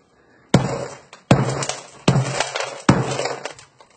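Repeated heavy blows smash a phone encased in hardened sponge, five or six sharp loud impacts spaced about a second apart, each with a short crunching, rattling decay, close up and without talk.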